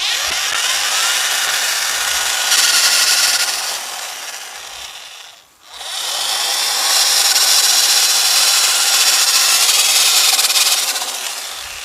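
A battery-powered saw pruner cuts through a small tree limb about 1.5 to 2 inches thick. Two loud, close, rasping cutting runs are split by a short pause, with no talking.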